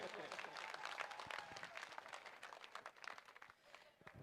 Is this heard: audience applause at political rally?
yes